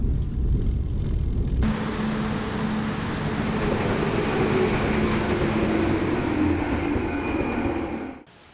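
A train bound for Barcelona-Sants pulls into a station in Catalonia, its continuous wheel rumble and faint squeal steady and fairly loud before cutting off abruptly at the end, with no talk.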